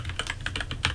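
Quick, uneven clicks from a computer keyboard being typed on, about a dozen close keystrokes in one second over a low hum, with no voices.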